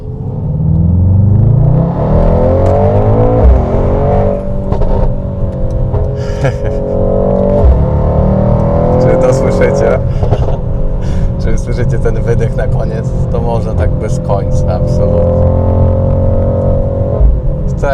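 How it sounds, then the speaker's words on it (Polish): A Mercedes AMG GT 63 4-Matic+ engine accelerating with its exhaust fully open along a straight road, a loud, sustained rising drone heard from inside the car beneath continuous talking. "Słyszycie już silnik na pełnym wydechu."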